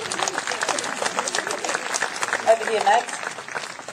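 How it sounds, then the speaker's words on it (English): A crowd at a birds of prey show applauds a wedge-tailed eagle, giving scattered, fluttering claps of moderate loudness while someone speaks briefly over them. "let's give Magra another round of applause"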